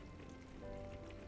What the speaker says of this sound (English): Borrow the sound of the rain.